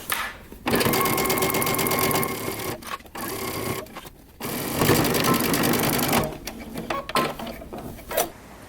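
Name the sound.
sewing machine stitching a jacket seam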